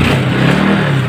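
A kick-started motorcycle with a dead battery runs after starting, its engine a steady, loud, close rumble throughout with no talk over it.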